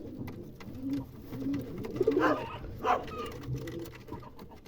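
Pigeons cooing close by, soft repeated low coos with a few sharper bird calls mixed in, against a busy outdoor background without speech.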